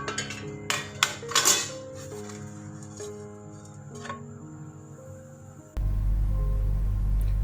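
Kunafa being moved from a pan onto a plate, with several sharp metallic clinks and scrapes of utensil against pan early on, then quieter handling, ending in a loud steady hum.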